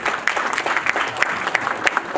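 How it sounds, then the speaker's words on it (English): Loud, sustained audience applause with dense overlapping claps fills the hall at a national fashion show, honoring a retired Indian Army officer; no voices stand out. "So big round of applause for him."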